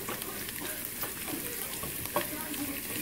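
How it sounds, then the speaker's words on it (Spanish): Egg for Chinese fried rice fries in a hot pan with a steady, close sizzle and occasional light stirring clinks. "estamos sofriendo bien lo que es el huevo para que quede muy, muy bien cocidito"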